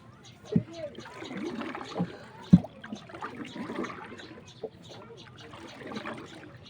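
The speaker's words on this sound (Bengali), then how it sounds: "দেখবেন আমি কিভাবে নৌকা বাই" An oar dips and splashes as a boat is rowed through monsoon floodwater on a village path, with soft trickles and someone speaking over the water sounds.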